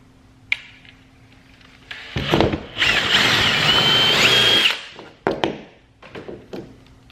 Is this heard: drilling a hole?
yes